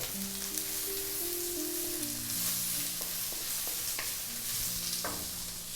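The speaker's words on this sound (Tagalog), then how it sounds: "Gisayin ko lang siya ng mga 30 seconds bago tayo maglagay ng pinalambot na beef tripe" Chopped onion sautés in a pan with garlic and ginger for Filipino goto, a soft, steady sizzle with occasional light stirring taps, sitting under background music.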